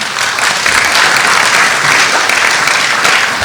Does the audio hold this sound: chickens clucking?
no